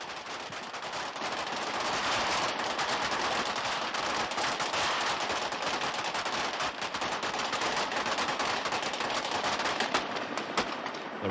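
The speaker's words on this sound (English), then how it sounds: "This dynamic scene, which features 3 continuous explosions and several hundred actors," Dense, rapid blank gunfire crackles without pause on a large 1985 action film set staged with explosions and hundreds of extras, a loud continuous rattle of shots with sharper cracks poking through.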